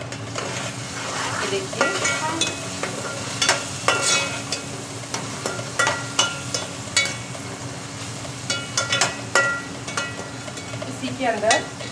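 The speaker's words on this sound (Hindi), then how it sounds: "ये डाल के मैं इसको थोड़ा भूनूंगी।" Ingredients for matar pulao fry and sizzle in a pan while a spoon stirs and scrapes in repeated sharp strokes, with a short spoken remark over the cooking.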